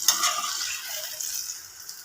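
Sweet jackfruit puri fries in hot oil in a pan with a bright, steady sizzle, close and alone, easing slightly as it goes on.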